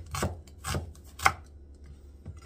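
An onion being chopped with a knife: several sharp, separate knife strikes on a board at an uneven rhythm, close and fairly quiet, with no talking.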